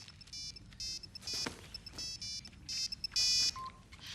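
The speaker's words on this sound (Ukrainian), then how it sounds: "Телефон Льюіса." A mobile phone rings with a repeating electronic ringtone, short bright bursts of melody separated by brief pauses, over a faint indoor background.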